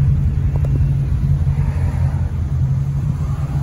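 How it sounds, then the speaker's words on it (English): A 1951 Ford Victoria with a 6-volt system idles quietly, giving a steady low rumble and hum that stays even throughout, with no talk over it. "That's how quiet that engine is."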